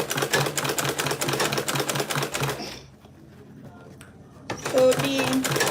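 A sewing machine runs a seam at about half-inch allowance, loud and close, with rapid needle clatter, a pause of near silence, then stitching resumes.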